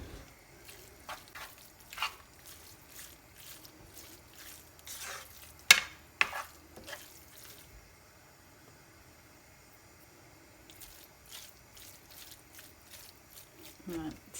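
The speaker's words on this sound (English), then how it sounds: "you're just going to put your mince in and cook it up. Actually, put it on a high heat" Mince fries on high heat in a pan, producing intermittent sizzling bursts and spoon-scraping stirs, fairly quiet with pauses between them, while a person talks at times.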